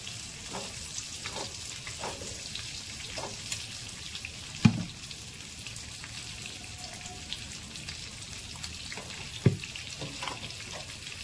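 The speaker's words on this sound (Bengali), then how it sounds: "এই কড়াইতে আমি আলুগুলো ভেজে নেবো নুন হলুদ দিয়ে।" Potatoes fry with salt and turmeric in oil in a wok: a low, even sizzle runs throughout, broken by a couple of sharp utensil knocks and soft scraping sounds, close by with no talking.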